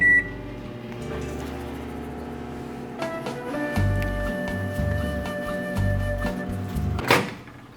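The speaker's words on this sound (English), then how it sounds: "I microwave my coffee about 10 times a day." A microwave oven hums steadily as it heats a mug of coffee, its drone shifting partway through, then ends with a sharp beep near the close.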